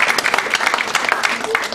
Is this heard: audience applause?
yes